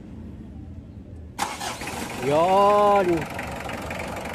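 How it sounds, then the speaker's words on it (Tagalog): A Mitsubishi Adventure engine, just fitted with a new timing belt, cranks and catches into a rising roar, then settles into a steady idle close by. A person speaks briefly over it. "Pwede ko nang pa-start itong makina."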